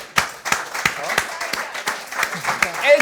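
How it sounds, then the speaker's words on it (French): Audience at a live comedy show clapping, with sparse distinct hand claps spaced at a steady rhythm, fairly close and crisp, with a voice briefly audible at the end. "On peut les applaudir."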